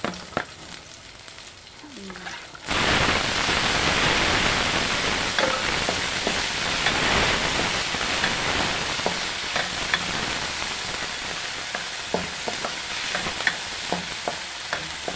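Chicken sautéing with tomatoes in a hot pan for chicken patola with pechay, a steady close sizzle that kicks in loudly after a quiet start, with scattered stirring clinks and pops throughout.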